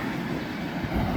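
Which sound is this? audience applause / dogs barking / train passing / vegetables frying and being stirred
train passing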